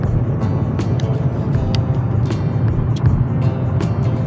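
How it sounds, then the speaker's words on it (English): A car cruises along an interstate across the Great Plains, heard from inside as a steady low road and engine rumble with a few faint ticks above it and no talking. "I'm on the Great Plains, driving down the interstate"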